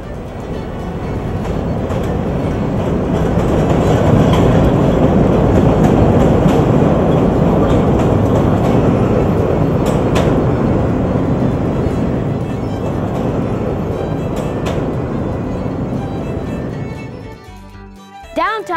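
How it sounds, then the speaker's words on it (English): Chicago L elevated train rolling along its tracks, a loud steady rumble and rattle of wheels on rail sustained for most of the pass before it fades out at the end. "The L trains get their power from an outside third rail that runs alongside the two main rails."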